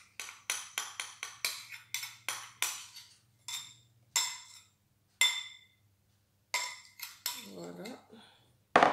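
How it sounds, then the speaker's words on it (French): Spoon or spatula scraping and clinking against a bowl while melted chocolate is folded into half of a cake batter, a rapid run of sharp close strokes followed by a few spaced scrapes, with no talking. "je viens mélanger mon chocolat fondu dans la moitié de pâte."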